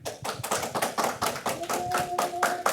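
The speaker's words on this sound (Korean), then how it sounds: "우리 오석환 교수님 나오실 때 보이지 않더라도 우리 박수로 환영해 주시길 바랍니다" An audience at a seminary lecture claps to welcome Professor Robert Oh, a set of fairly distinct, rhythmic hand claps with a faint tonal hum emerging partway through.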